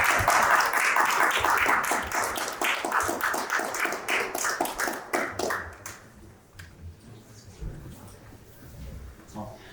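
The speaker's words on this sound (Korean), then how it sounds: "우리 교수님 앞으로 모실 때 여러분 큰 힘찬 박수로 함께 환영해 주시면 감사하겠습니다." A lecture hall audience applauds as a professor is welcomed to a 20th-anniversary commemorative lecture. The clapping is dense and loud for about five seconds, then thins to scattered claps with murmuring underneath.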